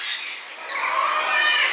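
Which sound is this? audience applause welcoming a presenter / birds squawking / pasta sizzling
birds squawking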